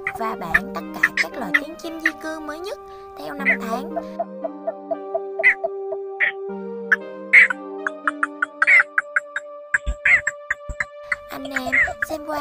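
Recorded calls of cinnamon bittern and yellow bittern repeat as loud, clear, tonal notes and rapid clucking bursts in a steady series, with some layered calls overlapping against a quiet background.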